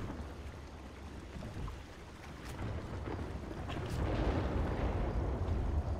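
A boat drifts across water in the Red Dead Redemption video game, a rumbling wash of churning water with occasional splashy bursts that swells louder in the second half.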